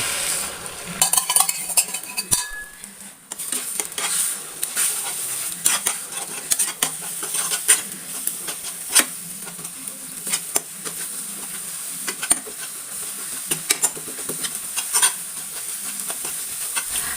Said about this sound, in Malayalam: നമ്മൾ മുട്ട സ്ക്രാമ്പിൾ ചെയ്യാൻ ഞാൻ പാനിലേക്ക് നമ്മൾ പൊട്ടറ്റോ വറുത്ത ആ ഓയിൽ തന്നെ കുറച്ച് ഒഴിച്ചു കൊടുത്തിട്ടുണ്ട് അതിലേക്ക് നമ്മൾ ഇത് ഒഴിച്ചു കൊടുക്കാം